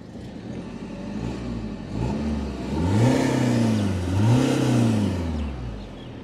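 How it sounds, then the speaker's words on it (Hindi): A 2013 BMW 520d Luxury Line diesel engine revs in two rising and falling swells over a steady idle hum, heard close and alone with no talking. "मैं आपको इंजन का नोट सुना देता हूँ।"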